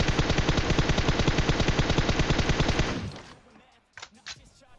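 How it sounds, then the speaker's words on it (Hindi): Rapid sustained automatic gunfire from the mobile battle-royale game PUBG Mobile, loud and dense for about three seconds before cutting off, followed by a few faint scattered sounds. "लेकिन गोली चलाना रोकता नहीं।"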